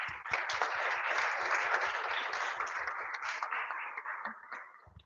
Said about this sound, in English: And give her a big round of applause